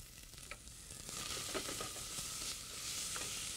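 Onion sautéing in a pan as the base for risotto, a soft continuous sizzle broken by light scraping stir strokes, close and fairly quiet, with no voices.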